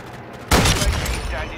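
Sniper rifle shot in Call of Duty Modern Warfare II, a single loud, close crack that rings out and fades over the next second.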